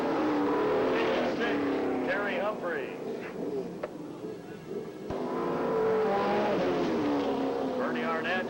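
Race cars roaring around a track at a 2004 race restarting after a caution, engines revving and passing with rising and falling pitch, loud, under a commentator's running announcement.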